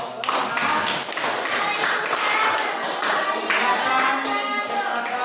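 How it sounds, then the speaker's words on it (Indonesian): A classroom of students claps in a dense, steady round of applause lasting several seconds, close and lively throughout. "Ya, kasih aplaus."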